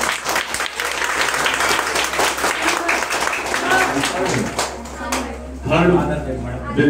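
Children clap at a school prize distribution, a dense burst of applause that fades midway as an adult voice speaks, then a short renewed flurry of clapping near the end.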